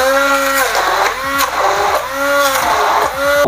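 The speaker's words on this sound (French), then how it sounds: "Et puis on va venir mixer le tout, réduire le tout en purée à l'aide d'un mixeur plongeur." An immersion blender purees pumpkin with cream, its motor whirring loudly up and down in repeated surges as it churns the mixture, close by and steady.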